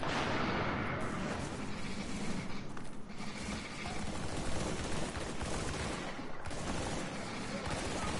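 Frag grenade blast and sustained gunfire in the video game Tom Clancy's The Division, a dense, continuous roar of shots and explosions filling the whole stretch, loud and close.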